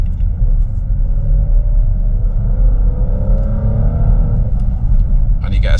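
A Porsche Macan in its most aggressive drive mode, with a steady loud cabin rumble of the engine and road noise that swells slightly as it accelerates to pass, with talk over it throughout.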